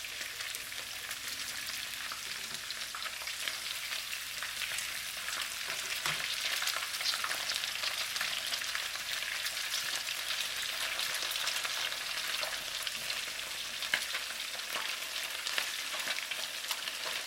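Pork spare ribs fry in a hot pan, giving a loud, steady hiss and crackle that runs unbroken close by, with no talk.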